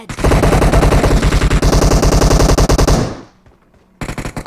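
Rapid, loud automatic gunfire from a SCAR-L rifle in the video game PUBG Mobile, sustained bursts for about three seconds, a brief lull, then another short burst, with no talk.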